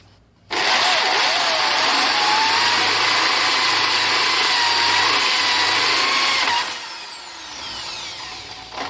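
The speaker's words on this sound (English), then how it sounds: "The carbide hole saw makes short work of the headstock" A carbide hole saw cuts through a metal lathe headstock, a loud continuous whining grind that starts abruptly, holds steady for about six seconds, then drops to a quieter run-down.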